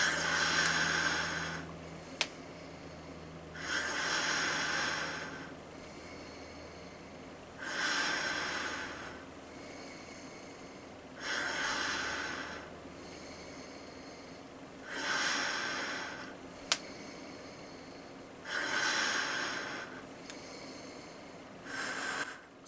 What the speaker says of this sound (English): we'll see how much my breathing increases and if I then start to struggle to breathe